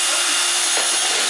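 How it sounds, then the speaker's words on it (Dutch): A power drill runs inside a house, a loud, steady high-pitched whirring drone that stays constant throughout the short stretch. "ik probeer te slapen, maar ik hoor een boor"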